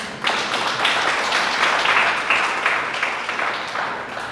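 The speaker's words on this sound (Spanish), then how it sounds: "Un aplauso a Dios por eso." A congregation applauds during a church sermon, giving a few seconds of brisk, fairly close clapping that swells and ebbs slightly.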